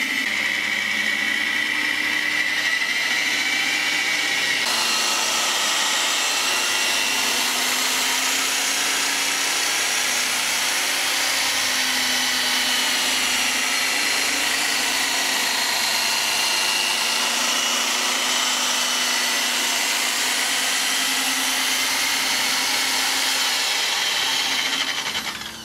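A rotary buffer polishes car paint to remove swirl marks, giving a steady, continuous machine whir that holds loud and close for the whole stretch with a slight shift in tone early on.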